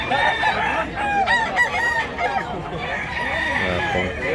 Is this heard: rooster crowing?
yes